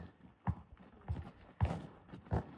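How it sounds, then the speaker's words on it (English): Horses stand at a tie-up point outdoors, with four or five uneven hoof thuds and shuffles at moderate distance, plus faint creaks in between. "anyone can sit there and just enjoy watching the horses at the tie-up point"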